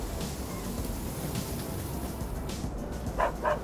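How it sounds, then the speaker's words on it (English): A dog barks happily, with a couple of short, bright yips near the end over a steady background hiss. "Do you hear those happy barking sounds?"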